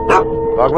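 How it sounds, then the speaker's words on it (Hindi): A dog gives two short sharp barks close by, a quick yelp followed by another after a brief gap. "फिर ये कुत्ता क्यों भौंक रहा"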